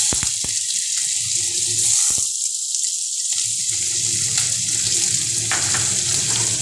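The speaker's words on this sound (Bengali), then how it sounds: "এবার দিয়ে দিচ্ছি একটা মিডিয়াম সাইজের কুচনো পেঁয়াজ।" Chopped onion hitting hot oil tempered with cinnamon, a bright, hissing sizzle that holds steady and close throughout, with a couple of sharp clicks near the start and no talking.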